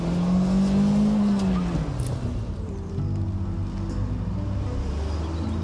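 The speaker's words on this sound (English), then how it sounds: "You must build up your speed before flicking the steering wheel and then pulling on the handbrake." A car is flicked into a handbrake turn, and its tyres let out a loud sustained squeal that bends downward in pitch as the skid fades into rough engine and tyre rumble.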